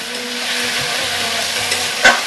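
Rice stirred in a hot pan for prawn pulao: a steady, close sizzle with soft stirring sounds and a single metallic clink near the end.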